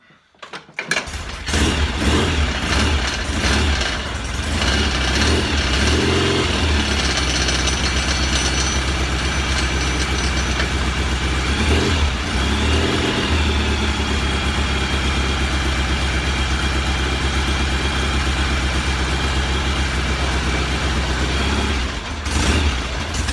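A Norton Commando 750 motorcycle engine starts and settles into a steady, throbbing idle, loud and close, running evenly for the whole stretch.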